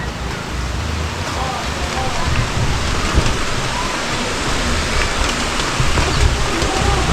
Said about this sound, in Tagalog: Ayan, umulan. Silong muna.